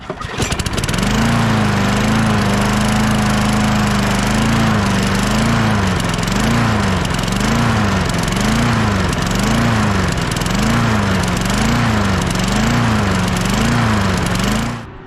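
A small lawn mower engine heard close and loud, running steadily for about fifteen seconds with a rhythmic surging, hunting wobble in its pitch.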